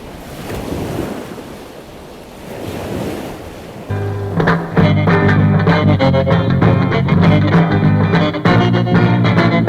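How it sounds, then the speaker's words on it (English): Ocean surf breaking at Malibu Beach, California, a steady wash of waves that swells into a louder, dense roar partway through, with wind and no voices. "The variable pace and disposition of waves suggest moods of calm, grace, and beauty"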